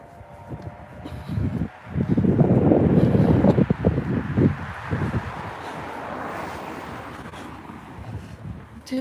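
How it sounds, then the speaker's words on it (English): Gusty cold wind buffets the microphone in a loud, rumbling roar that swells early, then settles into a steadier rush, during an outdoor walk at 27 degrees. "It's a little windy. That's why it feels colder."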